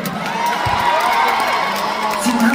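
Live concert crowd in a large venue cheering and whooping with scattered applause, a dense, steady roar with voices mixed in throughout.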